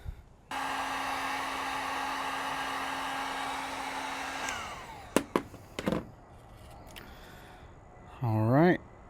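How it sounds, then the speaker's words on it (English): A heat gun shrinks heat-shrink tubing with a steady, loud blowing hum that runs for several seconds and then cuts off. A few sharp clicks and handling knocks follow. "Then we're just going to take our heat gun."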